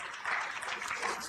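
Brief, faint applause from a lecture audience at an architecture and design talk, a soft continuous patter of clapping lasting about a second.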